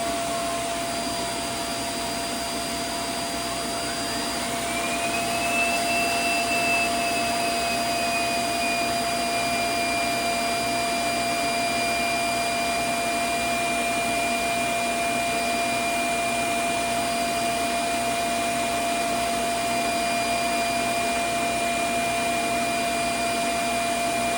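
A loud, steady vacuum roar from a robot vacuum dock emptying, with a whine that rises in pitch early on and then holds constant.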